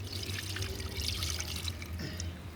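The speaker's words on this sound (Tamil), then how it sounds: "இப்போ இது கூட கம்மி கழுவுன தண்ணியையும் இது கூட ஊற்றிக்கலாம்" Chickpea washing water poured into a pot of Tamil chickpea curry, a short steady trickle and splash of liquid over a low background hum, with no talking.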